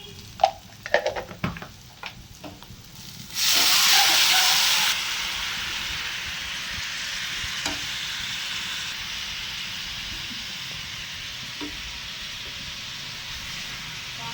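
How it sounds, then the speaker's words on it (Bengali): Spice paste with turmeric, chili powder and garam masala fries for an egg curry. A few clatters come first, then a sudden loud hissing sizzle that settles into a quieter, steady frying sound. "মশলাটাকে খুব সুন্দরভাবে আমরা কষিয়ে নেব"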